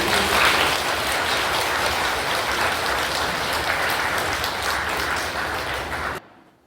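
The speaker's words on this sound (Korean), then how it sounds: "큰 박수로 안토니오 신부님" A church audience at an Advent lecture applauds to welcome Father Antonio, a dense, steady wash of clapping from many hands that holds evenly for about six seconds and then cuts off abruptly.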